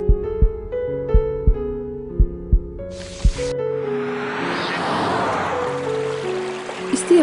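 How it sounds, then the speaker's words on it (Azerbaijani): A heartbeat thumps in slow, regular pulses under a sustained musical drone, then a rushing wash of sound rises over it, and the beats return faintly at the end. "Ürək döyüntünü hiss et."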